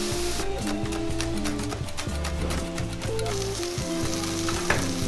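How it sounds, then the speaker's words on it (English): Onion, tomatoes and carrots fry in a pan, a steady loud sizzle running throughout with scattered sharper crackles and some tonal background sound layered over it. "Now give this all a little time to kind of fry a bit."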